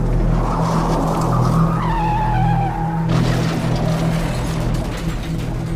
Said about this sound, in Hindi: करण की ये बात ख़त्म भी नहीं हुई होती कि करण को फ़ोन के दूसरी तरफ से ये आवाज़ आती है कि जैसे रॉय का भी एक एक्सीडेंट हो गया हो।